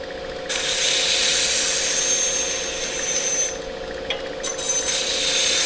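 Knife blade drawn against a knife sharpener in a long, continuous grinding rasp, close and steady with brief breaks between passes.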